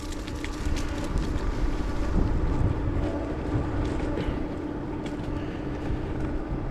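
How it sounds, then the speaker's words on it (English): Wind blowing while riding an Aerial Rider Rideal e-bike into a southeast wind, a steady low rumbling buffet of air across the microphone, loud and continuous with no talking. "Got the wind coming out of the southeast today, so I'll be riding into the wind here a little bit."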